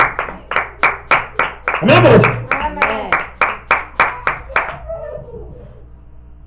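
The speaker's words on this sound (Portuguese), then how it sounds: "salve de palmas para Jesus Cristo" A church congregation claps hands together in a steady, rhythmic beat of about a dozen sharp claps, with a voice speaking over the middle before the clapping fades out.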